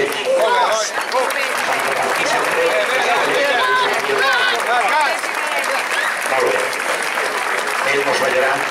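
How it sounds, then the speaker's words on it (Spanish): A crowd at a folk gathering applauds a group arriving to perform a jota, sustained dense clapping with lively voices and shouts mixed in throughout, fairly loud and close. "Entreu i us saludarem en un aplaudiment."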